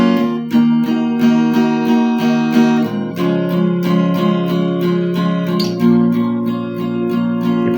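Intro to a song played on guitar with steady down-strums, continuous chords ringing in an even rhythm, with a chord change about halfway through.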